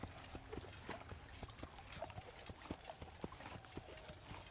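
Horse hooves clip-clop at a slow walk in Assassin's Creed, a faint, regular series of close hoofbeats over a quiet game background.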